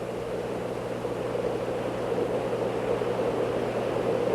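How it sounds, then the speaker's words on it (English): Steady, even rush of air streaming past the cabin of a Convair 880 jet airliner in flight, a broad continuous hiss with a low hum underneath, holding at one level with no voices. "The only sound you hear is from the air that is slipping by outside."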